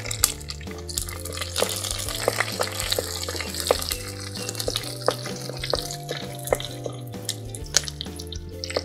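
Cumin seeds crackle and sizzle in hot oil alongside mustard seeds and dried red chillies while tempering a drumstick leaf curry, a steady dense frying hiss with scattered pops and occasional utensil stirring, close and fairly loud.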